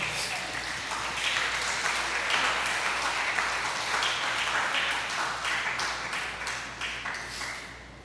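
A church congregation applauds together, dense sustained clapping filling the room for several seconds, fairly loud with faint voices mixed in.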